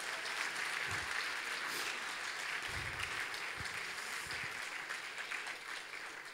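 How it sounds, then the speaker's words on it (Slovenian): Sustained applause from the audience at a charity concert raising money for abandoned animals in Koroška, with dense, steady clapping that fills the room and fades slightly toward the end. "Aplavz."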